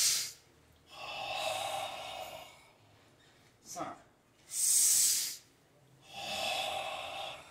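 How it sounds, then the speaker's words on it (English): Controlled breathing during a training drill: about four forceful, hissing exhales close to the mic, separated by short quiet gaps. "Practice exhaling."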